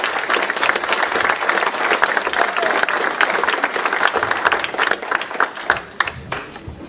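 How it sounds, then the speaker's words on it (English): A crowd applauds steadily for several seconds, dense clapping that stays loud and even throughout. "we need to give a round of applause and show our appreciation"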